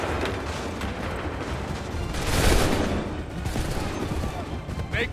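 Musket volley fire in the video game Assassin's Creed 3 sounds as a dense, rolling crackle of shots that swells to a loud burst in the middle, thick with battle noise and mechanical clatter.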